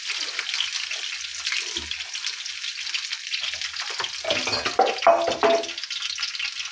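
Cumin, onions and green chillies fry in hot oil, giving a steady, close crackling sizzle that swells with stirring toward the end.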